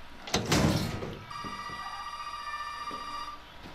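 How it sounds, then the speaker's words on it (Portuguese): A telephone rings in the Resident Evil 7 video game: a steady, sustained electronic ring that follows a loud door rattle and thud at the start, with faint game ambience beneath. "Telefone tocou."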